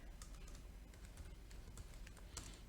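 Someone typing a command on a computer keyboard, a quick irregular patter of light key clicks, faint and close, with no talking.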